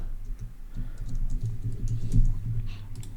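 Soft, rapid keystrokes on a computer keyboard patter in an irregular run of close, light clicks, a quiet desk-side typing burst with no talking.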